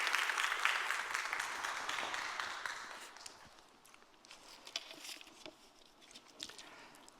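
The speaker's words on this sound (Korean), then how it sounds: "나오실 때 힘찬 박수로 한번 격려하시고 환영해 주시기를 바랍니다." A church congregation at a Korean Sunday service clapping to welcome the pastor, a loud burst of dense applause that fades over a few seconds into scattered claps and soft rustling.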